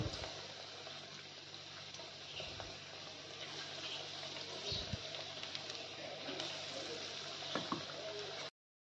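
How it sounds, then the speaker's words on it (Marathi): Potato bhaji fritters sizzle and bubble in hot oil, a soft continuous frying hiss at moderate distance with a few faint clinks along the way. "आता आपण भज्या तळून घेऊया।"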